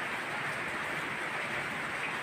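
Heavy rain pours down in a steady, dense hiss, continuous and even throughout, with no voices over it.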